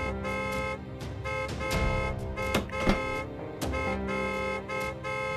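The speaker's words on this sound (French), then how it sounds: "Arrêtez de klaxonner." Car horns honking in traffic: loud, sustained, buzzy horn blasts overlap and repeat with brief breaks, continuing insistently throughout.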